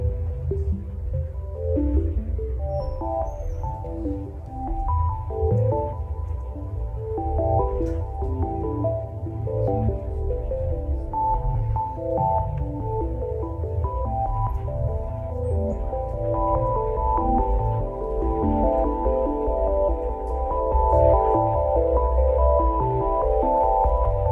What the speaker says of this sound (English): This is the sound of universe at the starting point.